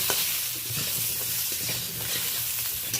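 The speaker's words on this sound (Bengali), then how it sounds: "পটলটাও লবণ হলুদ দিয়ে ভেজে নেব।" Pointed gourd pieces fry with salt and turmeric in hot oil, a steady close sizzle broken by occasional stirring scrapes, with no voices.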